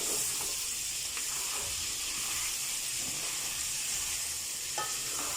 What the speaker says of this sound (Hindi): अच्छे से 2 मिनट तक भून लीजिए टमाटर डालने के बाद में।